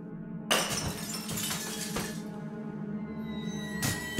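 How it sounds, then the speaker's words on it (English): Glasses shatter in an old back room of a bowling alley at night, a sharp crash followed by tinkling shards and a second burst of breaking near the end, fairly close and alone. "I could hear glasses breaking."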